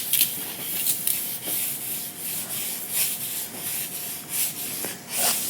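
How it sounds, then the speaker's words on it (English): The side of a hot bending iron is rubbed back and forth against guitar side wood, giving a steady, close scraping and hissing with repeated rhythmic strokes that rise and fall for several seconds. "I'm going to use the side of the iron and I'm just going to rub it like this."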